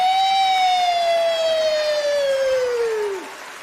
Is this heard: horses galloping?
no